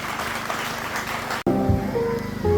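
A church congregation claps loudly for the Lord Jesus in a dense, steady wash of applause that stops abruptly, then gives way to quieter room sound and voices.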